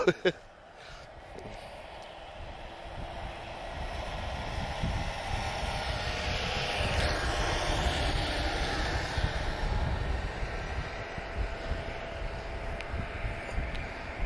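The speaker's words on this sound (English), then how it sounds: "next departure, 737 8K2 KLM, and he's off to Amsterdam" A KLM Boeing 737-8K2 departing Lisbon Airport for Amsterdam, its engine roar rising steadily from far off into a broad, sustained rumble that fills the scene, with no talking over it.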